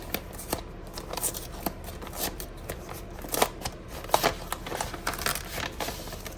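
Greeting cards from a seamen's club in Rotterdam being opened and handled, with close paper rustling, sliding and crinkling in irregular bursts.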